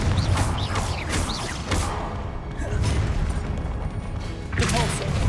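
In Hogwarts Legacy, the Confringo explosive spell goes off in a series of booming blasts and crackling impacts spread over a few seconds, set against a low rumbling background.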